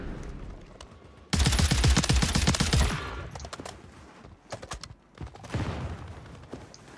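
A loud burst of rapid gunfire erupts in Warzone 3, a DTIR 30-06 rifle loadout in play, followed by scattered sharper shots and fainter bursts.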